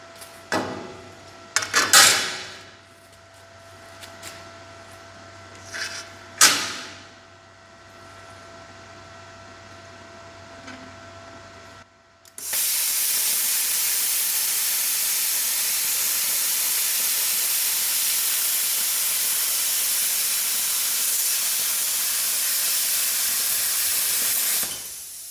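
An Arccaptain CUT55 Pro plasma cutter slices through 1/8 inch steel diamond plate, starting with a few short bursts and then settling into a loud, steady hiss that runs without a break for more than ten seconds.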